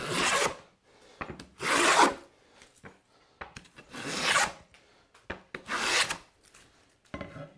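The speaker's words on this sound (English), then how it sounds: "Now, hear those full-length shavings?" A hand plane takes full-length shavings off a wooden board in about five long, rasping strokes with short knocks between them, close and with no talk.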